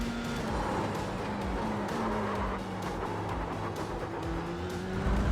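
A Dallara Formula 3 race car in the iRacing simulator drives on cold tires, its engine note rising and falling through gear changes in a continuous, fairly close drone, with braking and tire lock-up under braking.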